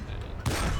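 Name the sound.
Soviet tank destroyer cannon shot in War Thunder video game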